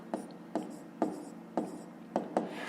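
Pen writing math on paper: six short scratchy strokes in an uneven rhythm, close and fairly quiet, with no one talking.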